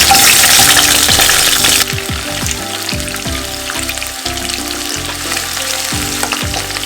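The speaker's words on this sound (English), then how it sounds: "First I need to fry the onions just for 1 or 2 minutes till it turns translucent" Three chopped medium onions frying in hot oil: a loud, dense, continuous crackling sizzle close by, with a slight drop in intensity partway through and no talking.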